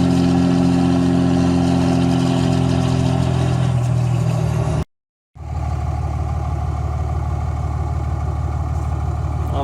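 A car engine idles after a cracked injector nozzle tip was replaced, giving a steady mid-to-low rumble close by. After a brief cut it continues, a little rougher and fuller.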